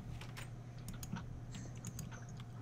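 A steady, busy stream of computer keyboard typing, with quick clicks and occasional heavier key strikes running continuously at moderate volume, close by, with no voices.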